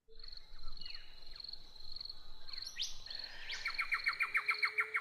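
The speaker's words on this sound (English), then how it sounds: "I'm going to start the music while the bird song." Recorded birdsong plays during a guided breathing session: clear high chirps and whistles, rising sweeps, then a fast run of repeated trills, close and alone.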